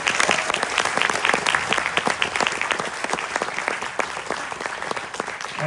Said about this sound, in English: So please give all my actors a big round of applause.